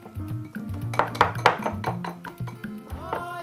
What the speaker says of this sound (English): You use your whisk to mix it in well